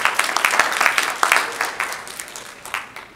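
Crowd applause at an evening event in Irvine, a dense steady burst of many hands clapping at moderate loudness, tapering slightly toward the end with no voices over it.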